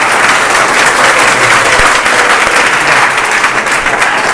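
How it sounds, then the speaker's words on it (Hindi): Loud, continuous applause from a class of students cheering a top-ranked Class 10 pupil at a monthly test result announcement, dense steady clapping with no pauses. "रोहित के लिए जोरदार ताली बजाओ।"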